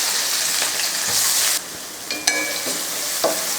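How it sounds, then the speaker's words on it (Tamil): Onions sauté in hot oil in a kadai with a steady sizzle that drops midway, followed by a few sharp clinks and scrapes of a spoon against the pan. "வெங்காயத்தை நல்லா வதக்கிடலாம்."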